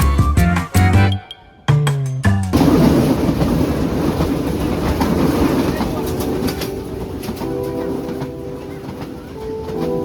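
A passenger train travelling from Yangon to Bagan keeps up a steady, loud rumble of wheels on rails. Voices and other sounds briefly come before it at the start.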